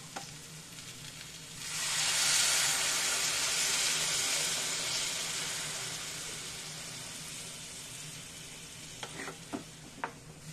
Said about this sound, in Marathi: आता याच्यामध्ये आपण गरम पाणी टाकून घेऊ.